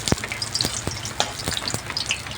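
A bay leaf sizzles in hot mustard oil in a wok: a steady, close frying hiss broken by sharp, intermittent crackles and pops, with no talking.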